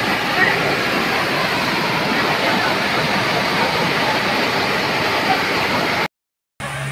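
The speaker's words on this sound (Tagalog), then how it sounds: "Narating na natin yung falls mga master. Ito yung falls, oh." A waterfall at a spring-fed falls gives off a loud, constant roar that fills the scene, broken by a short gap near the end.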